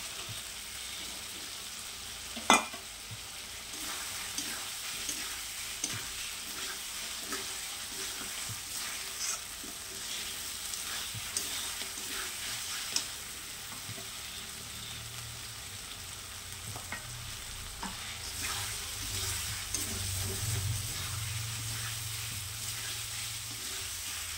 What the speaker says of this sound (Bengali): এই পর্যায়ে আমি দিয়ে দিব এই যে ডিম ভাজা আর আলু একসঙ্গে।